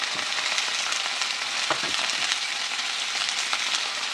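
Whole flat beans in a spiced vegetable curry with garlic paste and turmeric sizzle steadily in a hot pan as they are stirred, a continuous close crackling hiss with small scraping bumps from the stirring.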